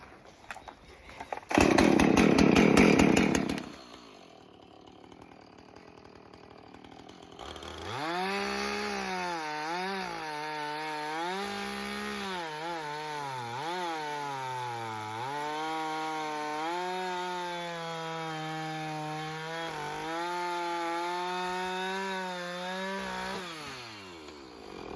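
A freshly sharpened chainsaw rasps loudly as it is pulled to start, then the engine revs up and drones steadily while the chain cuts through wood, the pitch sagging and rising under load, up close and with no talk.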